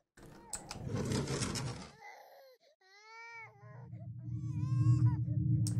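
Baby crying in the Japanese horror game Jusou, a wailing infant cry with rising and falling sobs after a burst of noisy sound, growing louder toward the end.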